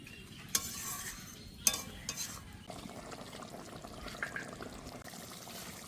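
Fried katla fish pieces simmering in a mustard and poppy seed gravy, a soft bubbling bed broken by a few sharp stirring knocks and splashes early on, close and fairly quiet.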